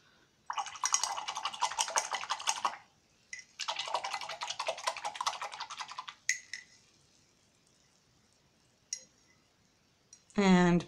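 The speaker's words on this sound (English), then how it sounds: "Now let's rinse out our brush." A paintbrush is swished and scrubbed in a water pot after painting an ice cream cone on a stone: two busy, rattling bursts of a couple of seconds each, then a few soft taps in near quiet.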